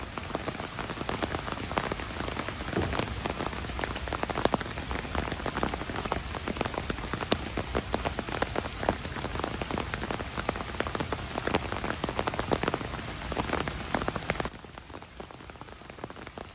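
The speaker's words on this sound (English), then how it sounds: "bringing a high-density downpour that targeted downtown urban spaces and low-lying coastal districts" Heavy flash-flood downpour over downtown streets and low-lying coastal districts of Norfolk, Virginia, a dense, steady roar of rain pounding surfaces with countless close drops, easing slightly near the end.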